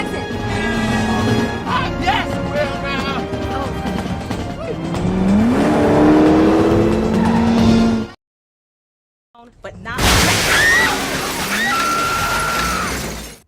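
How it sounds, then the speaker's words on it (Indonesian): A Chevrolet Monte Carlo race car at a NASCAR race: a loud, sustained engine roar with rising and falling pitch amid crowd-like noise, cutting out to a short silence before the roaring engines return at full volume. "Dia saat ini membalap menggunakan Chevrolet Monte Carlo untuk mengikuti kejuaraan NASCAR"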